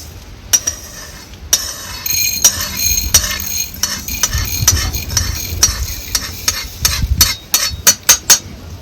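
A spoon scrapes roasted fenugreek seeds out of a kadai, rattling and stirring with sharp metallic clinks. The clinks come close and irregular, bunching into quick taps near the end.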